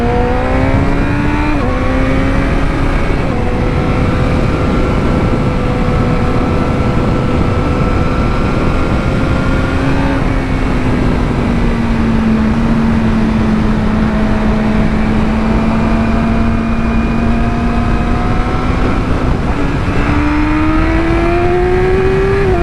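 A Yamaha R6 sportbike with a full exhaust system, engine whining loud and close with sustained wind rush, pitch holding steady, dipping slightly and then climbing again as it accelerates.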